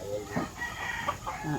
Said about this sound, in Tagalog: Mga manok ko, nakakulong na.